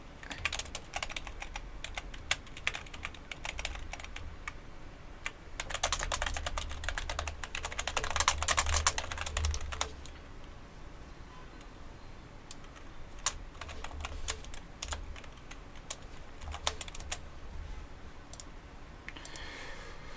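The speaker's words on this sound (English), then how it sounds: "I'm typing away to my opponent here" Rapid, irregular clicking of computer keyboard keys during an online Legacy card game, with dense bursts of typing separated by short pauses, close and fairly loud against a quiet background.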